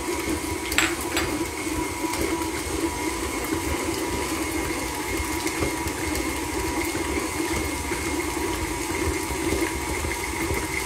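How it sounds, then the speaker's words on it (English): A steady mechanical whir of an electric stand mixer beating choux pastry dough as eggs are added, with faint clinks and rattles layered over the constant motor hum. "Sorry for the mixer noise"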